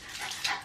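A person mimics a panting dog with quick, breathy mouth huffs while peeling an onion in a home kitchen, a short, close burst of airy breathing with no words.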